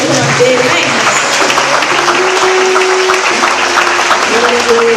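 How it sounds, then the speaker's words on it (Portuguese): Congregation applauding in a church service, a steady full wash of clapping from many hands throughout, with sustained tones and faint voices running underneath. "Aplauda o Senhor em nome de Jesus"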